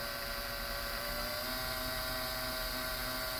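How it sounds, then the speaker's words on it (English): A steady, high-pitched electric drill whines continuously at close range, its motor note holding constant without pause. "Take our drill."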